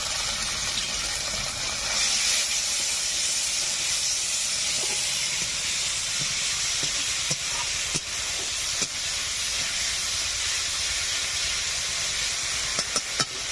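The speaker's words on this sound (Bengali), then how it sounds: "পেঁয়াজগুলো একটু ভাজা ভাজা হয়ে গেছে, এখন দিয়ে দিচ্ছি আদা ও জিরে বাটা, দিয়ে দিচ্ছি কাঁচা লঙ্কা বাটা, দিয়ে দিচ্ছি রসুন বাটা" A paste of onion, ginger, cumin, green chili and garlic fries in oil in a village kitchen, a continuous loud hiss and sizzle with occasional sharp crackles and pops, close up and alone.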